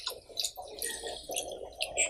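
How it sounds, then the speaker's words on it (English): Low-sodium soy sauce is poured over meat, making a close, light liquid trickle and splash in short bursts with faint drips between them. "I'm just going to pour it and make sure it gets all over the meat."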